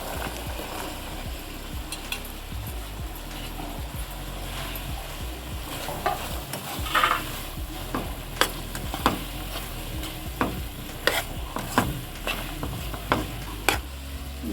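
Mushrooms, green peas and carrots are tipped into a pan and stirred for a mushroom gravy, with a low constant sizzle and repeated sharp spoon scrapes and clicks against the pan, close and uneven in rhythm, with no talking.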